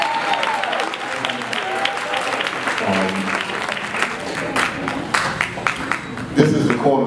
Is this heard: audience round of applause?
yes